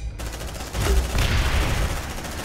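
Dense gunfire in the video game Aliens: Dark Descent, a continuous loud rumbling barrage of shots with heavy low booms and no clear gaps, filling the whole stretch.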